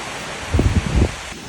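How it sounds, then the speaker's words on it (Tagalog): Steady typhoon wind roars with a gust swelling briefly in the middle, a broad rushing noise with nothing else audible. "ayan na naman yung hangin"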